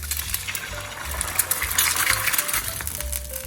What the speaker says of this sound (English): Fry an egg to your preferred doneness.